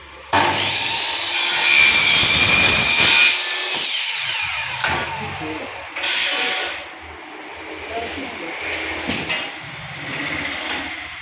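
A saw cuts through an aluminium 40 series window section, opening with a loud, shrill metallic screech and rasp that fades into quieter, intermittent cutting and handling noises.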